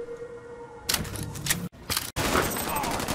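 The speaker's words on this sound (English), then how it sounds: "Now we're using victory mines against the enemy, and once they detonate" Victory mines detonate in the strategy video game Halo Wars 2, making a loud burst of layered explosive noise that starts abruptly after a quieter hum and is broken by brief dropouts.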